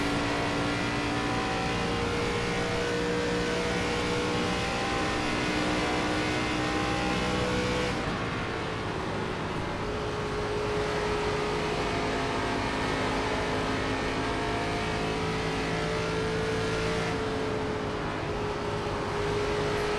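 Race cars in the iRacing video game during an ARCA Menards Series race at Indianapolis, a steady loud engine drone with shifting pitch as cars run close together, occasional passes swelling through, and no speech.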